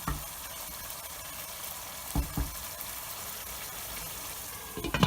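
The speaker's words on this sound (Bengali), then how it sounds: "আমি আরও 5 মিনিট ধরে হাই হিটে চিংড়ি মাছগুলোকে কষাবো।" Prawns stir-fried on high heat for a spicy Bengali bhuna prawn curry give a steady, soft sizzle throughout, with a few brief clinks of stirring near the middle and end.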